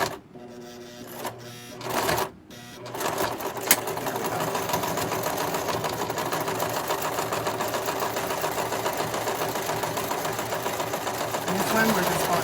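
A home sewing machine stitching fleece fabric for a reversible tote, with a few short bursts and stops early on, then a long continuous whirring run, while someone talks intermittently.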